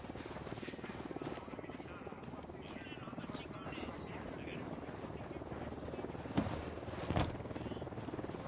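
A helicopter in a video game gives a steady, fast-pulsing rotor thump throughout, moderately loud, with a couple of sharper knocks toward the end and voices mixed in.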